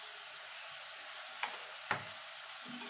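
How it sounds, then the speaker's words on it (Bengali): Ground spices with salt, chilli, turmeric, cumin and coriander powders frying in oil for a vegetarian jackfruit kofta, a soft continuous sizzle with two brief scrapes of stirring. "এবার এই মশলাগুলো ভালো করে কষিয়ে নেব যতক্ষণ মশলা থেকে কাঁচা গন্ধ না চলে যাচ্ছে"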